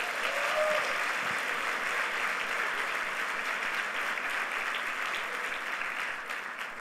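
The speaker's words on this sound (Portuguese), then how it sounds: "Então dá um aplauso a Jesus." A church congregation applauds at a pastors' anointing service, a dense, even wash of many hands clapping that holds steady and eases slightly toward the end.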